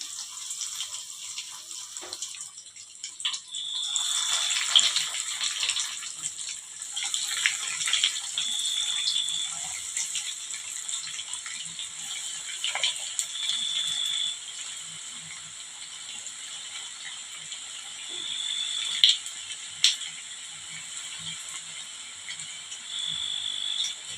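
Batter-coated cauliflower pieces deep-frying in hot oil on a medium flame, a steady bright hiss of bubbling oil with small crackles, fairly close and uninterrupted by voices.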